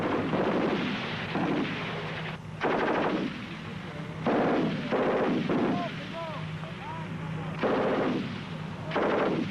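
A light machine gun fires NATO 5.56 mm rounds in repeated rapid bursts with short pauses between them, loud and close, while a voice narrates over part of the firing.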